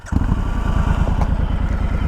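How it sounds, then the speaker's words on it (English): A Triumph Scrambler 1200XE parallel-twin motorcycle engine fires up after a brief start and settles into a loud, steady, close chugging idle with a rapid even pulse. "We'll hear this parallel twin come to life."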